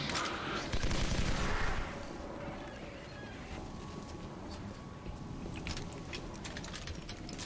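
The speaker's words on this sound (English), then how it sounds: "Grenades, probably?" Bursts of explosive gunfire and blasts in the action game Legendary, with a loud heavy burst early on and then a steady rattle of further shots and crashes continuing throughout.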